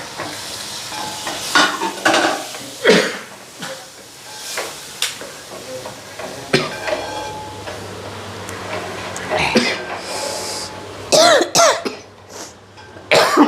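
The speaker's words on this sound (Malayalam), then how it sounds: "അത്യാവശ്യം നല്ല ചുമയും തുമ്മലൊക്കെ വരുന്നുണ്ട്" Someone in a home kitchen frying fish for fish pickle coughs and clears their throat repeatedly and close by, in sharp bursts over the hiss of sizzling oil and the scrape of stirring.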